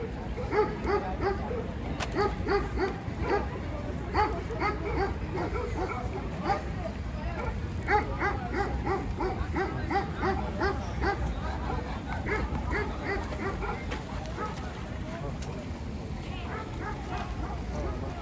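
Dogs bark and yip in Maçka Park, a run of repeated short barks at middle distance, some fainter and farther off, with people talking over much of it.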